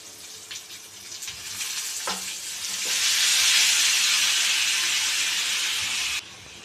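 Tomatoes hit a hot pan for chutney, a brief clatter giving way to a loud, steady sizzle and hiss that swells and holds before cutting off near the end.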